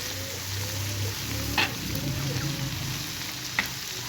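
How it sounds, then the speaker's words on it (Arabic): Chicken shawarma pieces sizzle and fry with chicken spices and seven-spice blend in a pan. The hiss stays steady and close, with a couple of faint clicks of stirring. "واقلب كله مع بعضه واشوحهم كويس"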